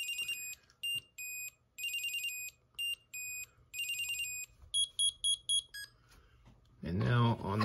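Original Pebblebee Clip tracker rings its alert through a small speaker, a series of shrill electronic beeping chirps in bursts and patterns, fairly loud and close, followed briefly by a person speaking.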